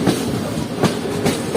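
The Karachi Express runs along the track, a loud, steady rumble from on board with rhythmic clickety-clack wheel beats over the rail joints.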